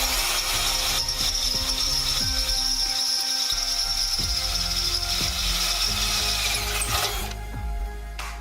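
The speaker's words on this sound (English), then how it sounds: "So all we have to do is drill this one out." A power drill bores out a hole in a Ford Focus ST's sheet metal to fit Hella horns, with repeated short bursts of whirring and grinding and brief pauses between them.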